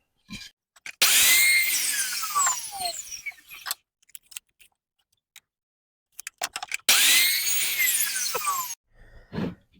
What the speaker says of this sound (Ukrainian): Так, зараз свердлимо ось такі отвори тут